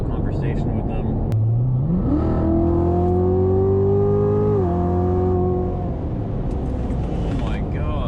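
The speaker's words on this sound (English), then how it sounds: "that was my first time flooring the car" A Chevrolet Corvette Z06 at full throttle, its engine note rising sharply into a sustained high wail for a couple of seconds, then dropping back to a rumble, heard loud from inside the car with faint voices around it.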